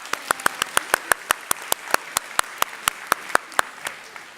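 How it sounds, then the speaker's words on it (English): An audience claps for child volunteers who have come up on stage at a Christmas science lecture for children. Sharp, evenly spaced claps ring out loudly and close for a few seconds with no talking. "They're quite right to give you all a clap because you're very brave to come down here"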